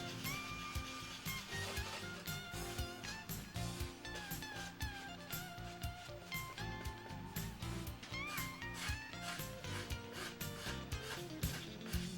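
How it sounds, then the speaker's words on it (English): A sanding block works over carved wooden tips, smoothing their contour with repeated quick rubbing strokes in a steady rhythm, faint and close with no talk. "carefully block sand the tips to a smooth contour"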